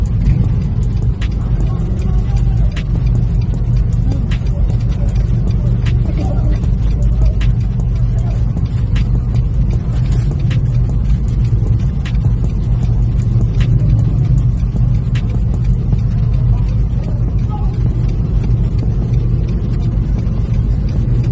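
A bus engine idles and rumbles steadily in congested traffic on a road in Madiun, a continuous loud low drone with faint clicks over it, and a voice talks under it.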